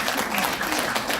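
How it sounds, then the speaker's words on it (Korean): Congregation applauding at a church founding thanksgiving service, a dense wash of many hands clapping steadily and close for the whole stretch. "대충 이 정도 되면 박수 막 치고 그러는데"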